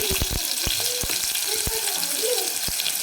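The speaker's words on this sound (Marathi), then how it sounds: "तेल छान गरम झाल्यानंतर कांदा टाकून घेऊ" Chopped onion frying in hot oil for a dal tempering, the start of a Solapur-style dal chawal: a steady, close sizzle with several sharp clicks and knocks of a spoon stirring against the pan.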